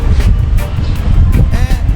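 Strong wind blows at a coastal village of Dinahican during a town fiesta, loud gusty buffeting against the microphone with rumbling low noise and a voice talking over it.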